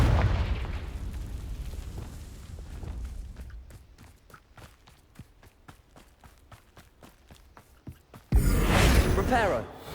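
A Confringo spell explosion in the video game Hogwarts Legacy erupts as one loud, sudden blast near the end, following quieter footsteps and light game sounds.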